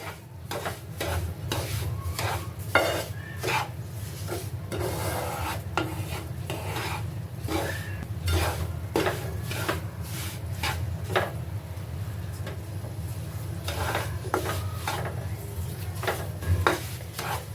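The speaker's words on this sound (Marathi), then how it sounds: "हे मिश्रण सतत ढवळत राहायचं" Amrut Pak barfi mixture of besan roasting in ghee is stirred steadily in a pan over low flame, giving a continuous rhythmic scraping and soft sizzle with repeated spoon strokes throughout, close and moderately loud.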